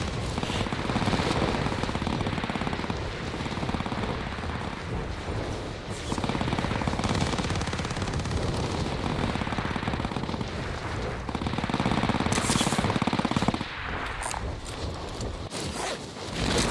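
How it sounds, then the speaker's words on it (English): Sustained automatic fire from an MG42 machine gun in a video game, a dense, continuous rattle of rapid shots running nearly the whole stretch with only brief gaps, loud and close with no talking over it. "Looks like the MG42 today."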